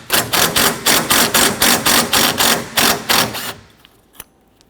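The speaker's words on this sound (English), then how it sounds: "Remove this bracket using our 10mm socket." Hand ratchet with a 10mm socket turning a bracket bolt on a 2006-2014 Honda Ridgeline AC condenser, a close run of about a dozen quick, even clicking strokes, then a faint tap and near silence.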